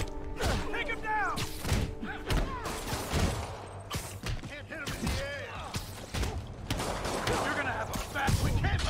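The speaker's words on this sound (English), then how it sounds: "We can just evade the gunfire by kiting the enemies somewhere far away" Game gunfire and combat thuds from Marvel's Spider-Man on PS4 come in scattered bursts, mixed with impacts, mechanical clanks and shouting game voices throughout.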